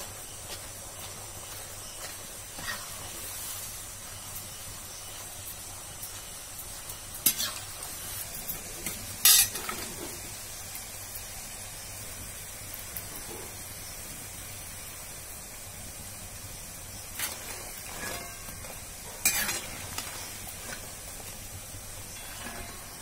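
Shirini, a traditional Odisha sweet, frying in hot oil with a steady soft sizzle and hiss throughout, broken by a few sharper spattering bursts and stirring sounds, with no talking.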